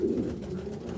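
Low, throaty pigeon cooing inside a loft, a steady muffled burble heard close and quietly with a light background hiss.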